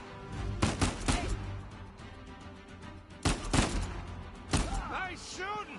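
Sharp gunshot bursts crack out in the Uncharted: A Thief's End video game, several loud shots and volleys at irregular intervals over a steady background of in-game ambience, with ricochet-like chirps near the end.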